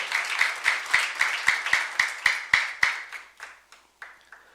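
Applause from a church youth congregation during a sermon, rhythmic unison claps at a steady beat that loosen and fade toward the end, fairly close.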